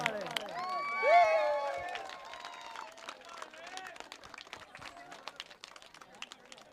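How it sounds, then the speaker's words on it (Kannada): Applause breaks out at a cricket league prize distribution, a crowd clapping in a scattered patter that swells briefly and then thins, while an announcer's voice rings out over the start. "ಬರಲಿ ಜೋರಾದ ಚಪ್ಪಾಳೆ."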